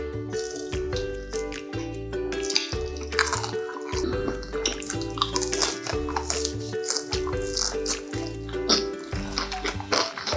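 Crispy fried spicy dumplings are bitten and chewed up close, producing repeated crunchy crackles in an uneven rhythm over a low steady tone.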